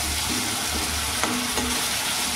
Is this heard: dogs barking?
no